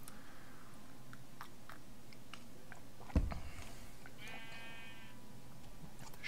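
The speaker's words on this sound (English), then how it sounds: "The sheep everywhere." Sheep in Minecraft give a wavering bleat in the middle of the clip, joined by scattered soft clicks and a brief thump against a quiet game background.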